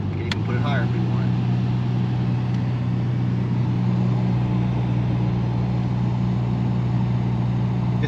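A 1989 RS Camaro with 6,500 miles on a test drive, its engine and road noise a steady low drone heard from inside the cabin, continuous and moderately loud throughout.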